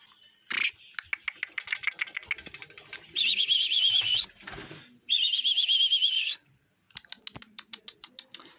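A pigeon's wings flap in rapid bursts of beats, close by as it flies in to a coop, broken by two longer rushing hisses and a few pauses.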